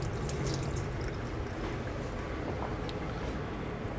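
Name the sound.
washing baby courgettes and heritage carrots by hand in water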